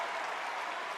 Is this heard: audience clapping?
yes